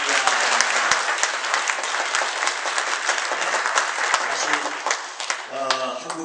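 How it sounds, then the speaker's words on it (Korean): A church congregation applauds the choir, loud dense clapping sustained throughout, with a brief voice near the end. "박수 한번 뜨겁게 해드리시죠."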